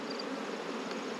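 Honey bee colony buzzing during a hive inspection: a dense, steady, close drone of many bees that fills the whole short moment without any talk.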